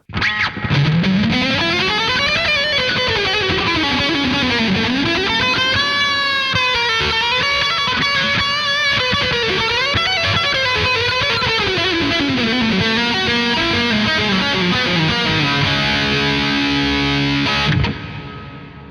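A lone electric guitar plays bending, sliding melodic lines through a Sonnox Oxford Reverb set to the Stadium preset, ringing out with a vast, lingering tail before stopping abruptly near the end.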